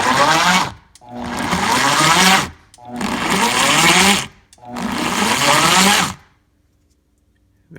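A Vitamix blender kneading bread dough runs in four loud, close bursts of a strained, labouring motor, each about a second or more long, separated by brief stops, then silence at the end.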